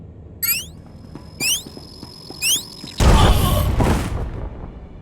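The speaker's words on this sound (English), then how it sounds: "That was a nasty explosion." A detonator explosion in Star Wars: The Old Republic, a sudden broad blast about midway that roars and fades over a second or so, preceded by three short rising whooshes.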